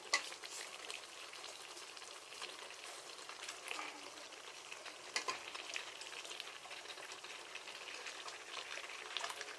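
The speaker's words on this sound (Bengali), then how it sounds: "আলু দিয়ে দিন একসাথে কষাই" Potatoes sautéing with spices in a pan over a weak gas flame, giving a steady, faint sizzle and crackle throughout with a few soft stirring clicks and no talk.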